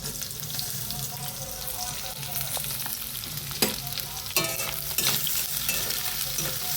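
Chopped onions fry in a hot pan with a constant sizzle while a spatula stirs them, producing occasional sharp scraping clicks against the metal.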